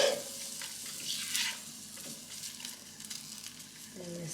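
Smoked, spicy and sweet sausages fry in a pan with a steady, close sizzle and crackle throughout, with a few light stirring scrapes and no talk.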